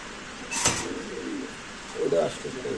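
Racer pigeons coo at a market stall, two soft low coos standing out against a busy background with nearby voices.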